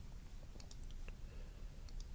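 Soft, scattered clicks of typing on a computer keyboard, faint and close, in a quiet room with a low background hum.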